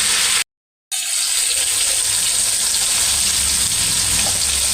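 Tomato and whole spices such as cloves and cardamom fry in a pan as a chicken fry biryani is made. A loud, steady sizzle fills the whole stretch, broken only by a short silent gap near the start, with no talking.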